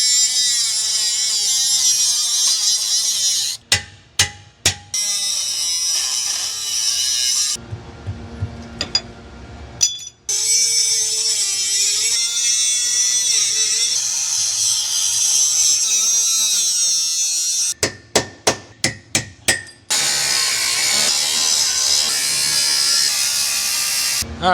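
A handheld power tool grinds and cleans the base metal of a trailer spring hanger ahead of welding, running steadily with several sharp interruptions as it bites and lifts off the metal.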